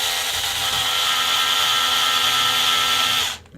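A power screwdriver drives screws into a 1/10 scale RC race car kit with one loud, steady whirring run that cuts off abruptly at the end.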